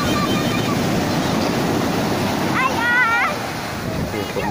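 Large ocean waves at Tambak Rejo beach on the south Blitar coast rumble in a steady, heavy wash mixed with wind buffeting, while a voice briefly calls out partway through.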